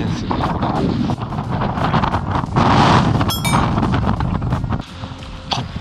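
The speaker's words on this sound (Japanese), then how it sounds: "突風なんですよね、風が。" Gusty wind buffets the microphone on the shore during night squid fishing, a loud continuous roar that swells around the middle before easing, with no speech over it.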